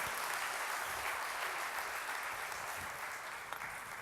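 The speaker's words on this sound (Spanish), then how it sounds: "denle ese aplauso fuerte si desea hacerlo al Señor" A church congregation at a retreat applauds in steady, dense clapping, a moderately quiet wash of many hands that holds evenly throughout without voices standing out.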